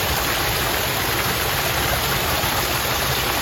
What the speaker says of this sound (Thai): มีน้ำตกครับ